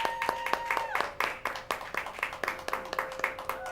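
A small audience claps for a guest on a local El Monte talk show, a few people clapping in a sparse, uneven rhythm of distinct, fairly close claps.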